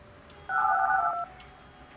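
Telephone dialing tones from the Project Highrise building-management video game: a single steady dual-pitch beep of about three-quarters of a second, clear and close, with a faint click before and after over quiet background.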